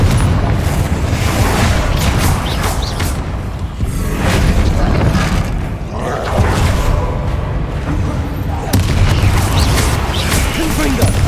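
Confringo and Bombarda spell explosions in Hogwarts Legacy, a loud continuous wash of booms, crashes and whooshes with recurring heavier blasts, game voices calling out over the chaos.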